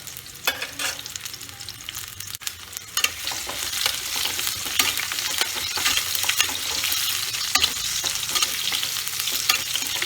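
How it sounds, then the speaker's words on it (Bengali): Pumpkin pieces fry in hot oil, a continuous crackling sizzle with spatters and occasional stirring clinks, steady and close throughout. "সেই জন্য কুমড়োটা আগে আমি ভেজে নিচ্ছি"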